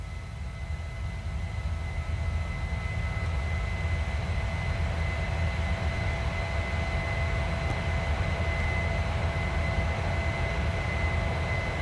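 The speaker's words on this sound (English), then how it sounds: "Pretty good takeoff there." A United Boeing 737-900 climbs out after takeoff in Microsoft Flight Simulator 2020, a steady loud jet engine roar with a low rumble and faint high whine, continuous and without talk.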